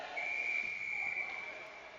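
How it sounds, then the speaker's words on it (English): A referee's whistle sounds at a junior hockey game, one long steady blast lasting nearly two seconds over faint arena noise. "they got to whistle that one dead"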